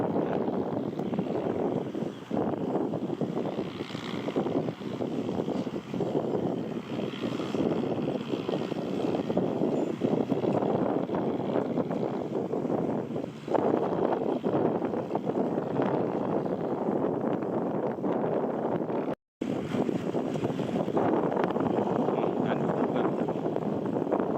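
A Kubota M108S tractor pushes soil to level ground, its engine a steady, loud, broadband rumble mixed with wind buffeting the microphone for the whole stretch.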